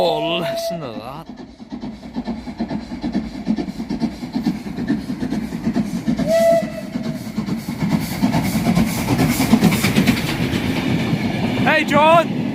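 A train rolls past at Greenisland, a loud continuous rumble and clatter of wheels on track, with a horn sounding briefly near the start and end; voices are faintly audible in the background.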